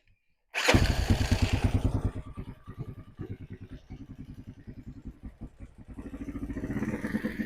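A motorcycle freshly fitted with a 200cc engine upgrade is started: a sudden loud burst as it fires, then a rapid, lumpy idle thumping close by that briefly swells and settles.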